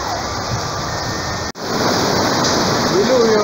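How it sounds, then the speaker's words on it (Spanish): Torrential rain pours down steadily in Arequipa, a dense, loud roar of falling water with a brief dropout near the middle before the downpour resumes at full strength. "Mega lluvia tropical"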